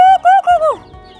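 Chickens raised by a rural family cluck in a short, close burst of about four rising-and-falling calls, loud and clear before fading to quiet background.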